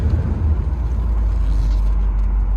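A 1980 Corvette rolls back into a parking spot, its engine a steady low rumble heard close up throughout, with no talking.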